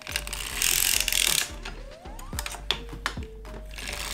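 A circular sock knitting machine with 60 stitches is cranked by hand, giving a close, steady mechanical ratcheting and clicking with a burst of louder whirring near the start and sparse clacks after it.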